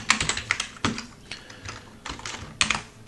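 Computer keyboard typing while entering a form field name in Laravel code: irregular bursts of crisp, close key clicks with short pauses, loud and alone.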